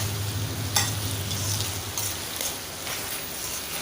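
Pork ribs and lemongrass stir-fry in a hot pan, a continuous crackling sizzle broken by several brisk scraping stirs of a spatula, close and fairly loud with no talking.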